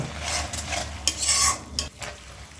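Green chili paste is stirred in a hot pan with a spoon, giving a close, loud scraping and sizzling for a couple of seconds with metallic clinks and no voices.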